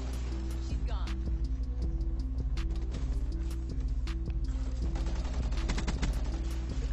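R70 Ajax firing in rapid bursts in Black Ops 3: rapid, steady automatic gunfire rattles close and loud, with other game sounds layered underneath.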